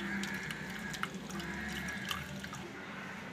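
Freshly ground coconut milk drains through a strainer with a quiet, continuous trickle and faint drips, close and soft.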